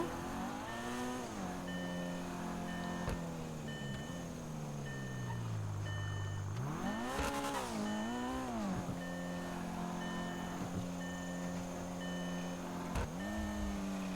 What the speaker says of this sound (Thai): จะทำการขับรถให้เราเลย เขาก็จะขับไป